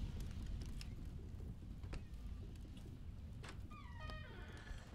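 A cat meows in a horror video game set in a house with a basement, with faint, short mewing calls rising over a low, steady background rumble and scattered small clicks, with no talking.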